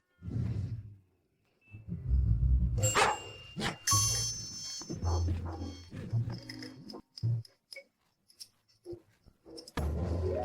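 A dog barking in a tense scene, with several sharp barks and yips spread over the stretch, close and loud, broken by whooshing movement and short pauses.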